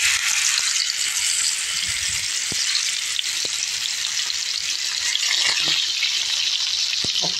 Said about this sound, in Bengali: এখন আমি আস্তে আস্তে ভাজা বসাই দিব।